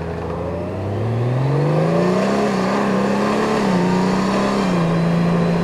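A Honda Gold Wing GL1800 touring motorcycle pulls away from a stop, its engine note rising steadily as it accelerates, then holding a strong, even drone close by, with no talk over it.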